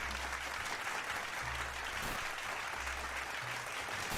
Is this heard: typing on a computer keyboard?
no